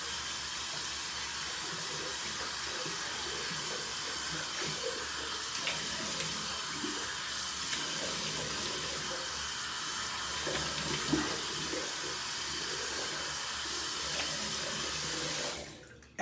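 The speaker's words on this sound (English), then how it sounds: "let's go ahead and real quickly splash some hot water on my face" Hot water runs from a bathroom tap in a steady, soft hiss for about fifteen seconds as a face is splashed before shaving, faint and continuous, stopping abruptly at the end.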